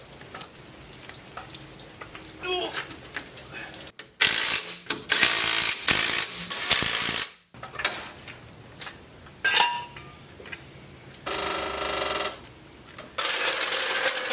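Tools clinking and ratcheting while a wheel goes back onto a 2003 Chevrolet pickup with an LB7 Duramax diesel, with metallic clanks, rattles and bursts of ratchet clicks in separate loud spells broken by short pauses.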